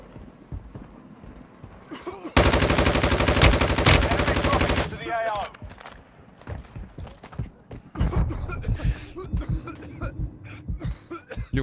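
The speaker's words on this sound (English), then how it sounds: "It's like two Desert Eagle shots at the same time." Rapid gunfire from a Desert Eagle pistol in the Warzone video game crackles in a dense loud burst, then scattered shots and clatter continue around talk.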